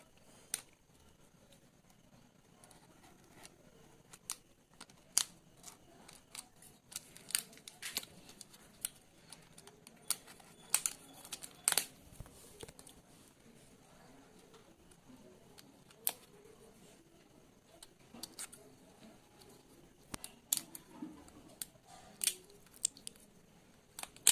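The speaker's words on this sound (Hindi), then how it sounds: "पहले प्लास्टिक को, इसका रैप को काट लेते हैं।" Scissors snipping and tearing the plastic wrap off a Unity digital multimeter box: scattered sharp clicks, snips and crinkles at irregular intervals over a quiet background, close and faint.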